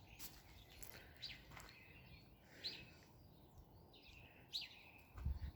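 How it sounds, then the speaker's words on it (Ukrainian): Birds sing faintly in the early morning at a country dacha in late March, with scattered distant chirps and calls repeating over a quiet outdoor background. "Пташечки як прокидаються,"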